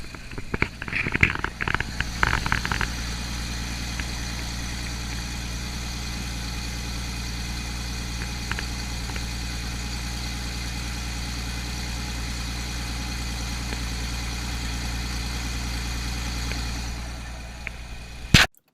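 A 2009 Porsche Cayman engine idles steadily, a smooth constant hum from start to finish, with a few brief clicks and knocks near the beginning and a sharp bump right at the end.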